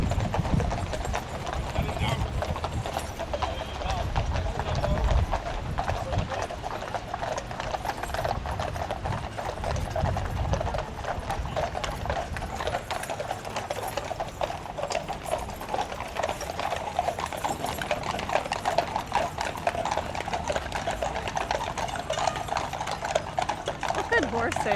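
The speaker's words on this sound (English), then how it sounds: "Good horses." A procession of horses on a London street clip-clops in a steady, continuous stream of hoofbeats, close and loud, with people talking nearby and an occasional whinny.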